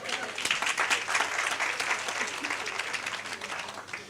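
An audience applauds steadily at a business workshop, a dense, even wash of clapping that holds at full strength for the whole stretch without dying away.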